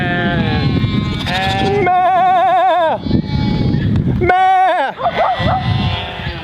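Sheep on a homestead bleating loudly up close, two long wavering calls in quick succession over a restless background of animals moving about outdoors.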